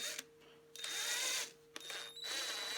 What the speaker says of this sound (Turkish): Darbel ucuyla şurada iki tane delik açacağım.